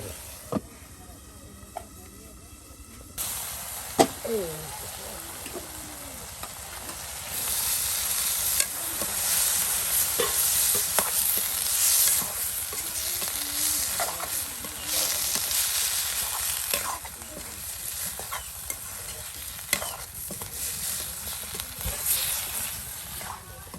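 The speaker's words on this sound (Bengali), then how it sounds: "একদম সেই কষানো মশলার সাথে মাংসগুলো একদম মিক্স করে নেওয়া হচ্ছে" Chicken meat is stirred and fried with cooked-down masala in a village kitchen, giving a loud continuous sizzle with repeated spoon scrapes and clinks; a quieter stretch at the start before the frying swells.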